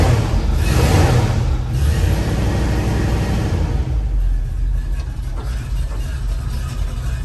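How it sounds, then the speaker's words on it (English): A 1960 Ford F100 pickup with a 351 V8 and a rattling tailpipe, revving loudly with a rough surge over the first couple of seconds before dropping back to a deep, steady idle rumble. "I think I'll hit the gas a little bit here."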